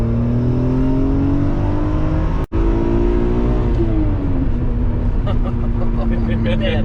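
A 2001 BMW Z3 M Roadster with its S54 engine and 5-speed gearbox accelerates hard and close, its rising engine note broken by a brief gap at a gear change before it climbs again, steady and loud throughout.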